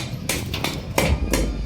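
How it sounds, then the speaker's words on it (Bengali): A hammer strikes something again and again at home, in sharp, fairly loud knocks spaced unevenly, about five blows in under two seconds, with no talking. "ঠুকঠাক করছিল, কি হচ্ছে চলো দেখি।"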